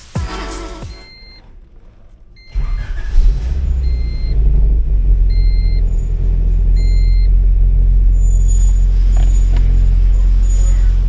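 A B17-swapped Honda Civic EF hatchback starts off on a test drive with new suspension, its engine rising into a loud, steady droning rumble with road noise, after a quiet pause and a few faint chime beeps.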